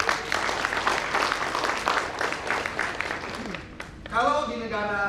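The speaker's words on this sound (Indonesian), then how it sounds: "Tepuk tangan dulu buat" An audience at an Indonesian national seminar on careers and further study in economics and business claps together, a thick patter of applause mixed with talk, then a voice speaks clearly over the fading claps.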